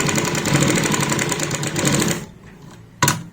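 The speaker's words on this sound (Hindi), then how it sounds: "तो ये हमारी सफाई के साथ में यहाँ पे मशीन चलती है" A sewing machine runs in a steady fast whirring stitch for about two seconds, stops, then gives a brief mechanical clack.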